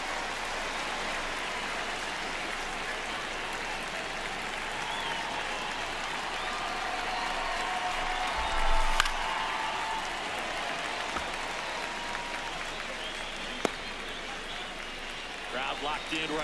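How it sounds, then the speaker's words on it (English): A baseball stadium crowd in MLB The Show 26 keeps up a steady distant roar of cheering and applause through a close ninth inning, with a brief swell midway and faint commentary under it. "Crowd locked in right now."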